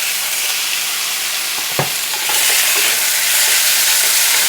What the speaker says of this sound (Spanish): Ahora vamos a agregarle el tomate.